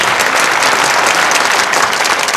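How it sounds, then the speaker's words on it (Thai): Dense, steady applause from a television studio audience, loud and close, with continuous clapping throughout and no pauses. "ปรบมือให้หน่อย ปรบมือให้หน่อย"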